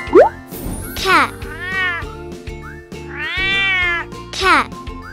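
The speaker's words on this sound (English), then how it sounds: "Cat." A cat meows twice, a sharp rising cry then a longer drawn-out one, over a light musical backing with short cartoonish sound effects.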